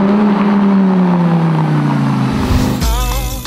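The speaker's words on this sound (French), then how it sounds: "On se retrouve sur le circuit populaire de France, le circuit de Manicourt, à bord d'une Viper GT." Dodge Viper GT sports car engine on the Magny-Cours race circuit in France, a loud sustained roar with pitch slowly falling, then shifting gears and revving hard as it pulls away close by.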